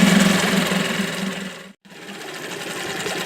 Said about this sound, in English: And it idles.